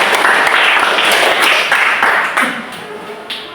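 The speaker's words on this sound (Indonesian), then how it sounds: "tepuk tangan sekali lagi" Classroom audience applause in a teacher training lesson, a dense run of clapping that thins out toward the end, with a voice speaking over it.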